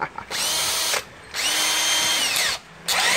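A Makita cordless drill whirs in three high-pitched bursts, spinning up and down with short pauses between runs, close and loud.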